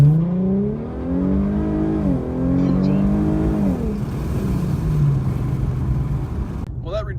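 An Infiniti Q50 launches hard with its tires spinning, the engine note climbing in rising harmonic sweeps that briefly dip and climb again before settling into a loud, steady roar close by. The driver feathers the throttle to reduce the spin.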